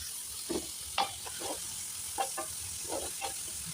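Steady sizzling of food frying in a hot pan, with occasional bursts of crackling and spattering as the ingredients cook. No talking.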